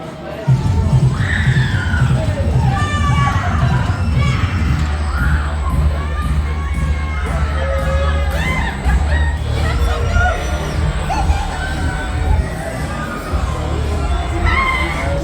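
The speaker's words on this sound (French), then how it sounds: "Ça crie, ça crie." A crowd of riders screams and shouts on an amusement ride, a loud sustained mass of overlapping cries over a low mechanical rumble throughout.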